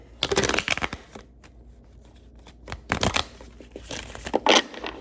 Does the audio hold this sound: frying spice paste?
no